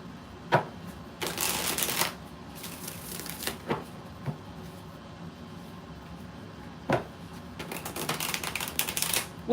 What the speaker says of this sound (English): We're going to also pull you some advice cards, NC. We'll do it with the Rider-Waite deck